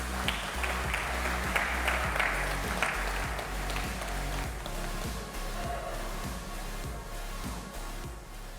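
An audience at a fintech conference fireside chat in Singapore applauds as a speaker is welcomed to the stage. The clapping is sustained and moderately loud, with a roomy crowd sound that fades slightly toward the end.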